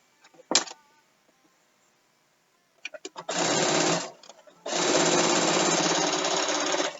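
A sewing machine stitching binding over pins runs in two loud, buzzing bursts, the second longer, after a sharp knock near the start and a few short clacks.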